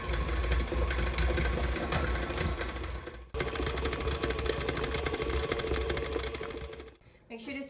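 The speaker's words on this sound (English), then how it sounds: "Now we need to blend it for, the book says 25 minutes until we don't see any more orange flecks anymore." An electric mixer blends cream cheese for a cheddar cheesecake with a loud, steady whirring motor hum that runs nearly the whole time, briefly dipping twice, with voices faintly underneath.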